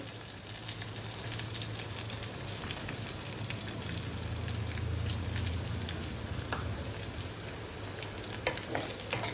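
Paneer thecha mixed with crushed peanut powder sizzles and roasts in a pan, a steady close frying hiss broken by stirring scrapes, with no talking.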